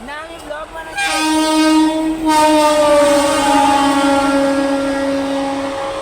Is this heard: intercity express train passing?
yes